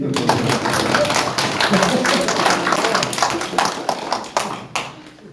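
An audience claps through a Korean special lecture on North Korea's nuclear threat, a dense patter of hands lasting several seconds while a voice talks over it, thinning out toward the end.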